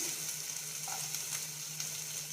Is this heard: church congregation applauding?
no